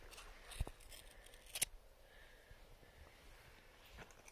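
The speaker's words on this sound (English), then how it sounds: "But we'll just trim the hair that's sticking out." Scissors snip a mule's hair during grooming, with a few sharp, quiet clicks in a low, faint background.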